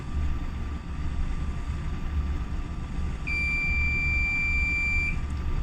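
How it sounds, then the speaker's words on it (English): Continuity tester on a multimeter giving one long steady beep when a Miniscope connector casing is touched to ground, a clear sustained tone of about two seconds over a low electrical hum, with no speech. "if you touch the braiding on the connector or the casing and you touch the ground, it should beep for long."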